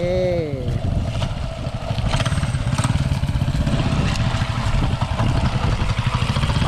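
A motorcycle engine idles low and then rumbles steadily as the bike is ridden gently up a slope, close and fairly loud, with someone talking briefly at the start.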